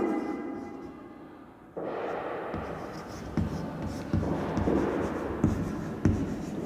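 A pen or pencil writes by hand during a lesson on the seasons, a continuous close scratching with short strokes and taps that grows a little busier toward the end, with no talking over it.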